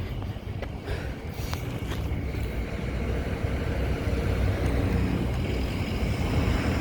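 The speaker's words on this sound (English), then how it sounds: "Guys, this wind, ooh," Strong, cold winter wind roaring and buffeting the microphone outdoors, a continuous loud rushing gust that holds steady throughout with no speech.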